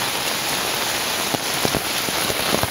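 A steady downpour of heavy rain drums continuously in a Konkan village yard, with scattered nearer drips and splashes standing out from the broad wash.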